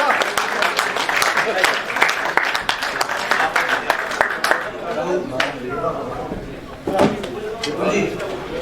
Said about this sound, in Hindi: प्लीज जोरदार तालियां।